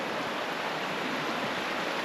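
A substantial creek swollen by rain rushes past a campground bridge, producing a steady broadband hiss of flowing water, close and unbroken, with no voices.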